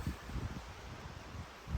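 Faint, gusty wind rustles through leaves at a windy lakeside campsite in Algonquin, a soft continuous hiss with low buffeting and no voices.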